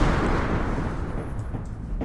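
A video game explosion lands as a loud, broad roaring burst that rumbles on and slowly thins out over about two seconds, with no voices.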